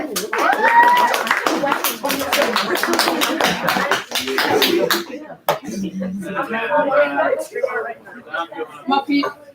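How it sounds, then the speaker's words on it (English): Small audience at a Maker Faire gives a round of hand clapping, with dense close claps that thin into scattered claps while people talk. "let's go around of applause"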